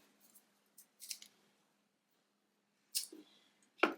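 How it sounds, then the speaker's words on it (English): Scissors snip a small piece off in a few sharp, close cuts spaced irregularly over a few seconds, with near silence in between and no talking. "So let me cut a little piece off."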